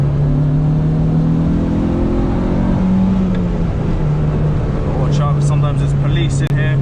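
Honda Civic Type R EK9 driving on a Japanese road, its engine a steady close drone that rises and settles through the run, with faint clicks and rattles near the end; no talk.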